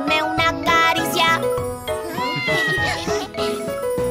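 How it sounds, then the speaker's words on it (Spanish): Bright, high-pitched meows from a cartoon red kitten ring out repeatedly over a bouncy children's song with sung voices and tinkling music, loud and close. "Es un gatito pelirrojo."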